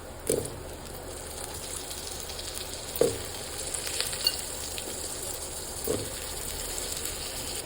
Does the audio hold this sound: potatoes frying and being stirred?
yes